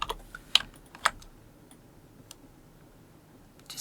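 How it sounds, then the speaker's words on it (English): A few separate key presses on a computer keyboard while editing in Photoshop, sharp close clicks spaced out across a mostly quiet stretch with no talk. "I've just hit S on the keyboard for clone stamp."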